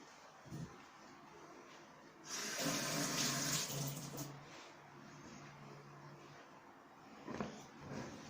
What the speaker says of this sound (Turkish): Bir ellerimi yıkayayım.